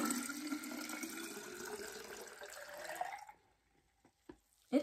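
Water pours into a pitcher as a steady stream, rising in pitch as the vessel fills, then stops abruptly and leaves a few faint drips and knocks.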